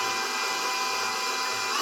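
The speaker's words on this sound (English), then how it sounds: "So let's get these egg whites whisked up so that they're stiff and glossy." An electric mixer whisks egg whites to stiff, glossy peaks, its motor giving a loud, steady, unbroken whir.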